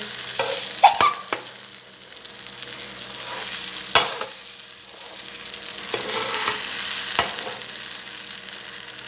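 Food sizzles steadily in a hot pan, punctuated by several sharp scraping knocks of a utensil stirring against the metal.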